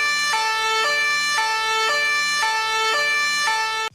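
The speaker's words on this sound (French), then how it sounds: "Écoutez cette sirène de police, telle que vous l'auriez entendue si vous étiez dans la voiture." Police siren as heard from inside the car, a loud, steady two-tone wail alternating at a regular pace of roughly half a second per tone, close and constant, with no talk, cutting off abruptly at the end.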